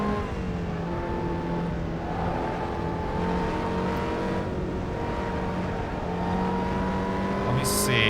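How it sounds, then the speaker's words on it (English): Racing car engine and exhaust from the Assetto Corsa video game, a steady sustained drone with tonal harmonics rising slightly as the car accelerates, heard from an external camera view with a faint voice underneath. "Even the engine sounds different from this external view. You can hear the exhaust more."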